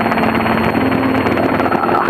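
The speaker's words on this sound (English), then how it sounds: "Helicopter" Steady helicopter rotor and engine drone near a Singapore airfield, heard from inside a Piper PA28 cockpit, a continuous broadband rumble with a faint tonal hum throughout.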